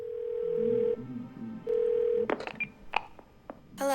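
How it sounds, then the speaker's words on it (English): Telephone dialing in the video game Twelve Minutes: two steady tones precede a quick run of short dial beeps and clicks, ending in a brief bright burst. "Let's make a phone call."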